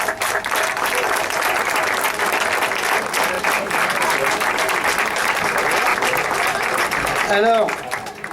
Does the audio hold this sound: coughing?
no